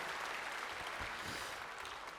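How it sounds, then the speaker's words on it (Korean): A church congregation claps during a sermon, a soft, continuous wash of applause heard from a distance with a few more distinct claps midway. "박수 한번 다시 한번"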